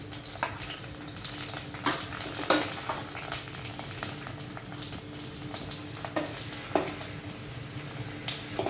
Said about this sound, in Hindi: इसमें ये मैं कटा हुआ प्याज डाल रही हूँ। इसको मैं थोड़ा सौते करूँगी